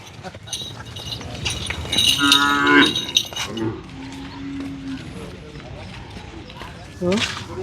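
Cattle moo loudly and repeatedly at the Anthiyur livestock market, where bulls, heifers and calves have been brought in. Voices and crowd noise sit underneath.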